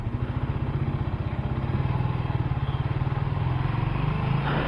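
A Suzuki GSX R150 motorcycle engine runs while being ridden, a steady, fast, even pulse heard up close and loud for the whole stretch, with no talking.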